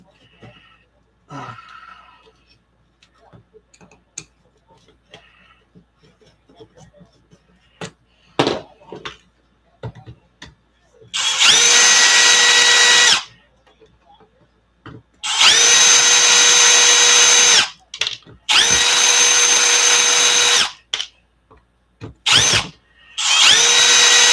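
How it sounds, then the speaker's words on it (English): A power drill whines in several loud, steady high-pitched bursts of a few seconds each, separated by quiet pauses and light workbench clatter, during work on a bashed ARRMA RC car. "If that drill noise is too loud, I can turn down the limiter."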